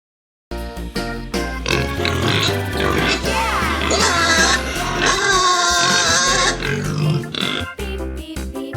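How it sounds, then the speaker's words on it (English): A pig grunts and oinks in a run of close, loud snorts mixed with music playing underneath. "Pig."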